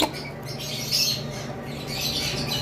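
Lovebirds in a nest box chirp and chatter in bursts of high, scratchy calls close by, with steady low background noise and no talking.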